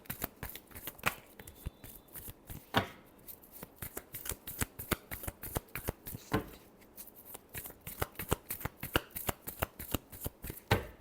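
Tarot cards being shuffled by hand, a long run of rapid, crisp riffling flutters with a few louder snaps, close and steady throughout with no talking.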